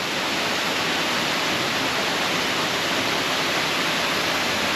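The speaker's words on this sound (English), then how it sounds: "There's a waterfall." Waterfall at Dyserth, Wales, in autumn, a loud, dense, unbroken roar of falling water filling the scene without pause, heard close with no voices over it.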